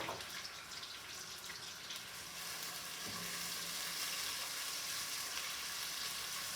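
Onion frying in a pan, a steady close sizzle that swells slightly louder midway and holds evenly to the end, with no voices.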